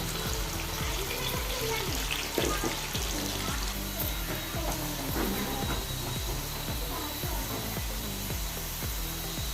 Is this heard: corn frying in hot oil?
yes